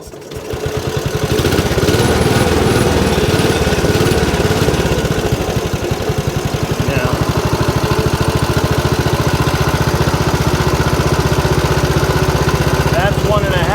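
A Cushman engine runs steadily after carburetor tuning, a loud, continuous small-engine chug with a fast even firing rhythm that settles after starting and keeps going throughout without talk.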